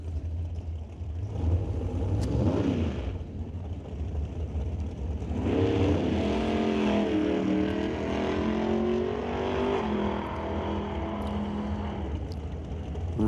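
An early-1970s or late-1960s Corvette on a drag strip during an NHRA test and tune session, a loud engine roaring and climbing through revs as it launches and pulls away, with a steady hum of crowd and ambient noise around it.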